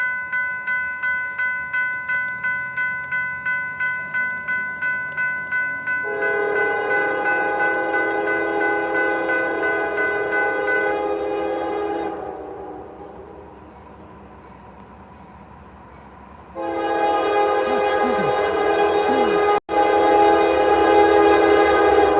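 A long Amtrak passenger train approaches a level crossing in Lilly, Pennsylvania, its multi-chime horn blaring in loud sustained blasts with pauses between them, over a steady rumble of the train and the ringing of crossing bells.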